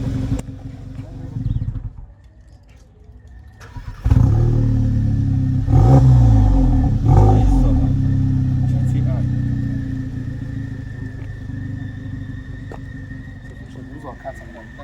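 A 2021 VW Polo GTI engine revs up under launch control, rising into a loud, sustained roar with sharp surges around the middle before holding steady, close by, with people talking over it.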